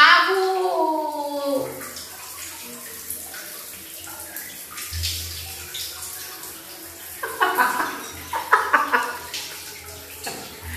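Water runs and splashes in a bathroom during a bath, loud and close, with brief voices breaking in now and then.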